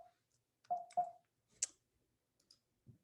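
Sparse computer keyboard keys click a few times, close and quiet, with irregular gaps and no talking.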